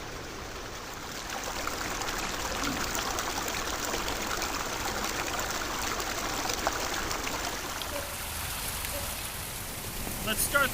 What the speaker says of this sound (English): the waterfall here just really gives a pleasing audio quality to sitting out here on their nice stone patio porch